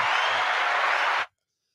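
An audience bursts into applause during a Spring Parade of Homes real estate preview in Minnesota. The clapping is a dense, loud wash lasting just over a second, then it cuts off abruptly into silence.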